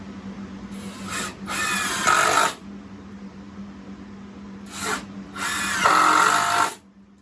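Power drill driving screws into a work table, two separate bursts of whirring and grinding, each just over a second long, with a low hum continuing between them.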